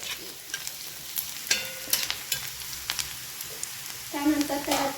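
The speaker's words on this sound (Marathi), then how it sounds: "कांदा आपल्याला जास्त हे करायचं नाही आहे हलकासा ब्राऊन तळून घ्यायचं आहे" Chopped onion frying in a pan until light brown, with a steady soft sizzle, scattered clicks of stirring and a louder hiss near the end.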